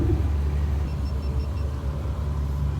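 Ferrari sports cars in a parade at the Spa-Francorchamps circuit give a steady, low engine rumble that stays close and continuous, with no voices.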